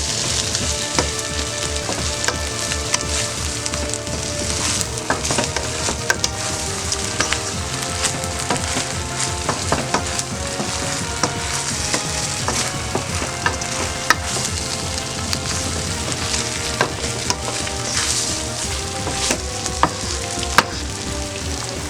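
Egg fried rice sizzles and crackles loudly in a hot pan while being stirred, a steady dense frying hiss with scattered scraping clicks throughout, no voices.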